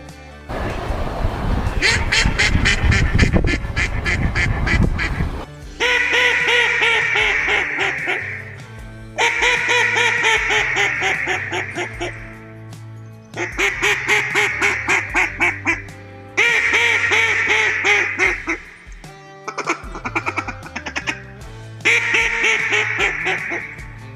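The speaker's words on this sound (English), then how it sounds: "First, a real hen mallard, and then the Edison in the flooded timber of Arkansas." A real hen mallard quacks in a short burst, then a Beckman Edison duck call sounds in the flooded timber of Arkansas: repeated loud, nasal quack sequences with brief pauses between runs.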